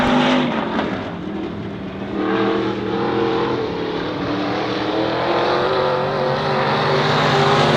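Race cars lap the oval at Honor Speedway in a Sport Mod, dwarf car and stock car program, engines roaring and rising and falling as they go through the turns, loud and continuous without talk.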